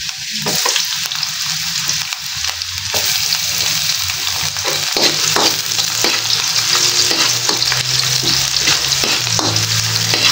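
Sliced onions fry in hot oil in a pan, giving a loud, dense, continuous sizzle close by, with intermittent stirring scrapes and crackles throughout.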